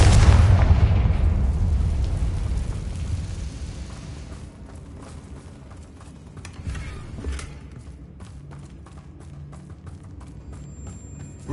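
A Confringo fire spell explodes in Hogwarts Legacy gameplay, a loud deep boom at the start that fades into a long rumbling tail with scattered crackles and pops.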